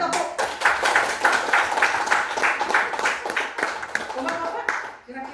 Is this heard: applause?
yes